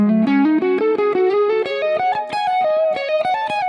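An electric guitar with effects and distortion plays a long minor pentatonic connector lick in fingering number 2, a fast run of single notes climbing across octaves and settling on a held top note, loud and alone with no talk.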